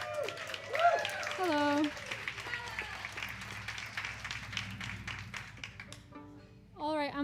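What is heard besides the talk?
audience applause for a fiddle player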